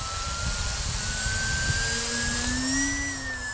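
A Radiolink Turbot D460 RC airplane flies at about half to three-quarter throttle, its steady motor whine droning continuously with a slowly rising pitch and a rough low rumble underneath, fairly loud and unbroken with no talking.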